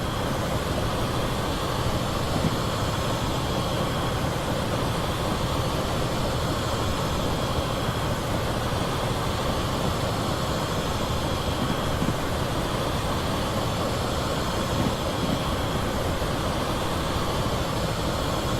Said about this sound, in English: Quite a decent sized freight train that.